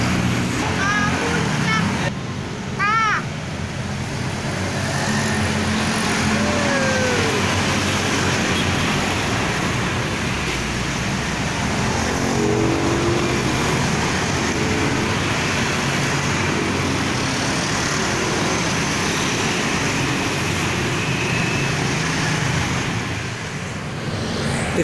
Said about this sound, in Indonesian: Inilah situasi di jalur Pantura Karawang yang mau mengarah ke Cikampek. Terjadi kemacetan dari tadi.